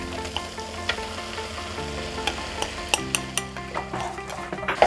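Coarsely ground moong dal for khasta kachori going into a hot spiced pan, a steady close sizzle with a run of light clinks and stirring taps from a utensil, and no talk.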